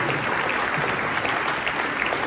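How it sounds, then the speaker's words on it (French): A burst of loud, even applause from the audience at a community launch evening in France, dense and continuous with no clear gaps. "un tonnerre d'applaudissements pour..."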